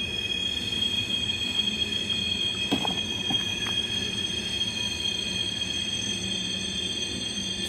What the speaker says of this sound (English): Stupid train in the background.